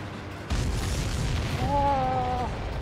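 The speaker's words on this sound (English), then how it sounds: "Did you see that explosion? Looks like that's one of them down." A ship blowing up after being shot down in the video game Ace Combat 7, a sudden loud boom followed by a sustained rumbling roar, with a warbling tonal alarm rising over it near the end.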